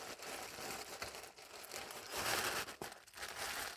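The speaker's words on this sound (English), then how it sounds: "How many layers of plastic bag is this?" Layers of plastic bag wrapping being pulled open by hand, loud close crinkling and rustling in continuous bursts with a few short pauses.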